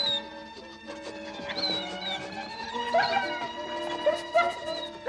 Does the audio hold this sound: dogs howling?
yes